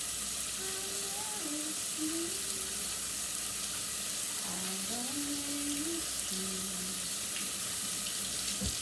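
Water running steadily from a kitchen tap into a sink while hands are washed, a constant close hiss under faint voice-like tones.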